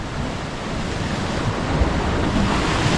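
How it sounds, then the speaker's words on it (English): Rough, choppy ocean surf churns in a steady broadband wash, with wind buffeting the microphone throughout; no voices are heard. "Water is really rough today. Look at that. Really choppy."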